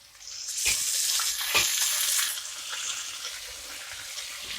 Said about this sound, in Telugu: ఉల్లిపాయలు బాగా ఫ్రై అయినాయండి.